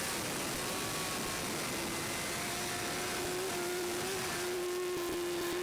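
Racing motorcycle engine held in top gear at the Isle of Man TT, a steady high whine that climbs gradually, loud and continuous with rushing wind and no pauses.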